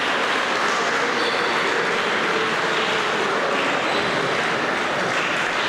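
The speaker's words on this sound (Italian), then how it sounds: "E gli applausi per Santa Maria Capua Vetere vanno tutti a ritirare il trofeo." Dense, continuous applause fills an indoor basketball venue as the winning Santa Maria Capua Vetere team goes up to collect the trophy at the Memorial final, loud and unbroken from start to finish.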